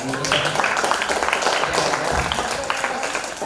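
Applause from an audience at a seminar on courtroom hearing technique, steady dense clapping filling the whole stretch with voices murmuring underneath.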